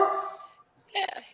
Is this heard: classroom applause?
no